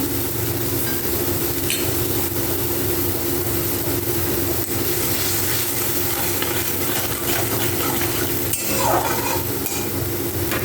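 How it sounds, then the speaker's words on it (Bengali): Dried red chillies and panch phoron fry in hot oil while being stirred, a steady sizzle with scraping and stirring over a constant low hum. "তারপর ওই তেলের মধ্যেই শুকনো লঙ্কা আর পাঁচফোড়ন দিয়ে দেবো"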